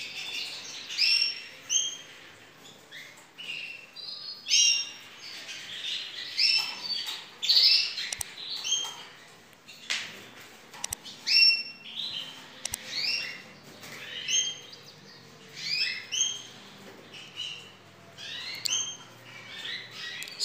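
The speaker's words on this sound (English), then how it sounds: "It's a male canary." Male canary singing in bright, rapid trills and chirps, repeated phrases coming close and clear in bursts across the whole stretch, with short pauses between phrases.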